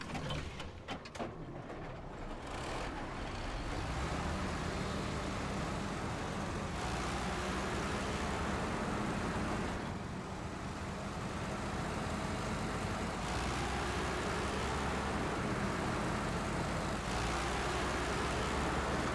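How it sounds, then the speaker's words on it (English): A truck engine in Snowrunner drones loudly and continuously at close range, a steady rumble with slight shifts in pitch and load, alone with no voices. "I don't know why this truck is so much louder than every other truck, but it is."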